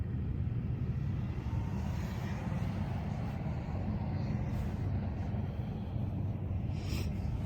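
A truck drives past a cemetery, giving a steady low engine rumble at moderate distance that holds level for several seconds, with no one speaking.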